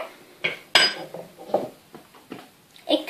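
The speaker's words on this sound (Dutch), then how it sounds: "Ik roer het even voor." A spoon stirs homemade juice in a container before it goes into ice-pop moulds. It gives a few scattered clinks and scrapes against the sides, close and fairly quiet, with no talking.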